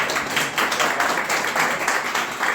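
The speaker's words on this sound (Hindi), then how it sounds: "हम सभी लोग ताली बजा करके" An audience claps steadily throughout a seminar held by the RPF Mitra Yojana committee in Jhansi: dense, even applause without a break and no voices over it.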